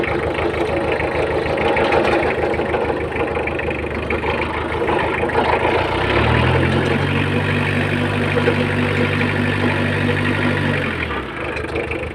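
A Yanmar YM2000 tractor engine running with its joined bar rattling: a loud continuous engine drone and metallic buzzing, with a deeper steady tone joining midway for several seconds before fading out.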